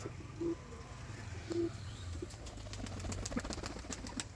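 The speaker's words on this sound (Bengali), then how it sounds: "এখানে সব বেস্ট অফ দ্য বেস্ট কবুতর কালেকশন তোমরা পাবে খুব সুন্দর সুন্দর কবুতর আছে এখানে" Kalduma pigeons in a loft, faint soft coos and a couple of brief wing flutters over a low steady background hum, with light scattered clicks toward the end.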